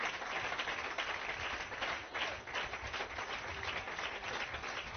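A church congregation applauding, with steady, sustained clapping from many hands throughout, slightly dipping midway, with no clear talk over it.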